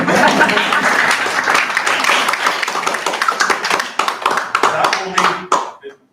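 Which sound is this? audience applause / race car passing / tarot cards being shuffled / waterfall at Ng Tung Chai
audience applause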